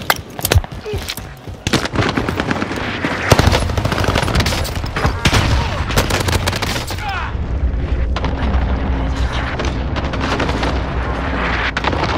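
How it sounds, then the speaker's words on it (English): Cluster strike explosions in Call of Duty Warzone roll in as rapid gunfire and a dense string of booming blasts, loud and continuous, with voices talking underneath. "Allied cluster strike arriving."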